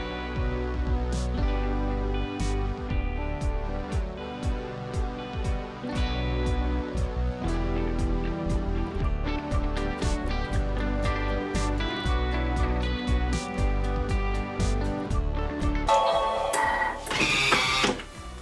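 Thermomix food processor blending a sauce, a steady close motor whir with rapid repeated clicking and rattling pulses throughout, rising into a brighter, harsher burst near the end; no voices.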